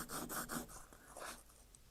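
A swivel knife edge is worked back and forth on the coarse side of a sharpening stone for leathercraft, making a close, soft rhythmic rasping in about four quick strokes, with no talk.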